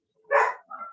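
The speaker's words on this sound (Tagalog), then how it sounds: "naririnig niyo pa yung aso ko?" A single dog bark followed by a softer second yelp, close and fairly loud in an otherwise quiet room, with no talk over it.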